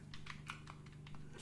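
Several quick, light clicks from the buttons of a Razer Kishi mobile gaming controller, pressed in an irregular tapping run close to the mic over a faint steady hum.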